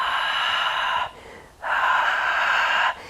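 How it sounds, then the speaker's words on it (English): Breath during a Pilates mat workout: two strong, close, airy exhales, one lasting about a second and a longer one after a short pause, then a third beginning to trail off. "you're going to exhale, curl down"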